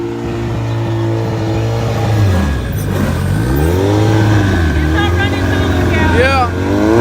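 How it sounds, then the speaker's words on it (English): A turbocharged Honda street racing car accelerates hard, its engine revving up in rising sweeps with gear changes, loud and fairly close, with crowd voices talking over it. "We got this turbo Honda coming up."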